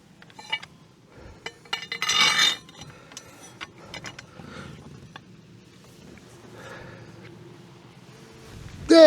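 A 30mm wheel nut bolt on a van being worked loose with a wrench: scattered metallic clinks and clanks, one louder ratcheting burst in the middle and a sharp metal knock at the end, over quiet background.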